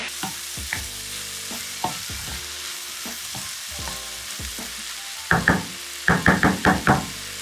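Peppers and mushrooms cooking in a pan, sizzling steadily while a utensil stirs, then a quick run of loud, close knocks and taps against the pan near the end.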